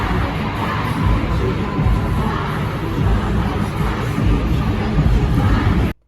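Dense, loud crowd noise fills an arena as fans wait for a concert in Arlington, Texas, a steady wash of many voices, likely singing along to a song, holding level throughout before stopping abruptly at the end.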